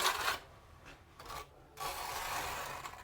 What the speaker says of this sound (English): So I have a 3/8 by 3/8 notch trowel.